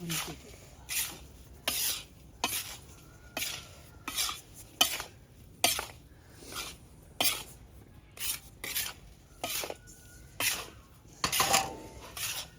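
Desi sugar stirred by hand into homemade panjiri, a dry Punjabi sweet mixture: steady rhythmic scraping strokes of a spoon against a metal pan, about one per second, close and moderately loud, with no voices.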